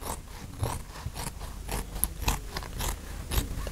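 Scissors snipping through material cut from a roll on a work table during a Land Rover 90 restoration, a steady series of short, close crisp cuts with faint scraping between them and no talking.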